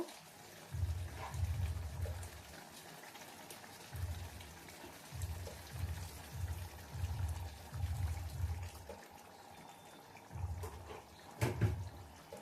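A little hot water poured into a chili chicken curry in a pan: soft bursts of pouring and bubbling splashes come in short repeated spells with brief pauses, close and moderately loud, with no talk.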